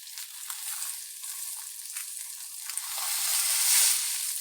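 Wagyu Denver steak sears in a hot pan with a steady, close sizzle that swells louder toward the end, no voices.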